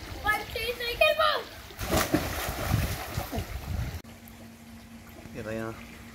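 Water splashes toward a camera at a home aquarium or pond where fish swim, a burst of wet splatter in the middle with a voice talking before and after.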